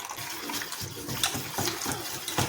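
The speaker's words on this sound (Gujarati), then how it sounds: "હવે આપણે બીજું થોડું પાણી ઉમેરીશું।" Water is poured into a curd and semolina batter, making a steady close splashing gush with small uneven surges.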